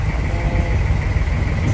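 A fishing trawler's engine drones steadily off the Dublagadi sea coast, a continuous low, rumbling idle with a faint higher whine above it, close and unbroken.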